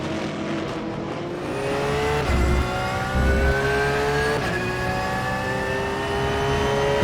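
Porsche race car engine in an endurance racing video game, loud and continuous, revving up through rising gear pulls with brief shift dips, steady and close without talk.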